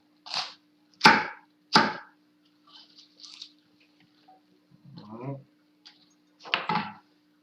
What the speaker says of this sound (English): Don't cut your vegetables too small for mirepoix because we just want the flavor